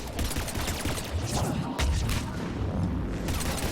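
Heavy turret gunfire in the video game Mass Effect 3: dense, continuous bursts and booming impacts that fill the whole moment loudly, with no pauses.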